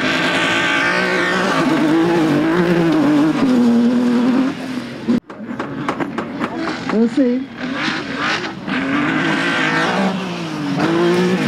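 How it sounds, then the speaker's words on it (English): A rally car engine roars and revs continuously in off-road action at the Goodwood Festival of Speed, rising and falling in pitch, with a brief gap midway and someone talking over it. "The car is coming in."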